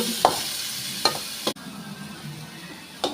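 Curry leaves, ginger, garlic and shallots sauté in a pan, giving a steady close sizzle with a few sharp scrapes and knocks of stirring scattered through, and no voices.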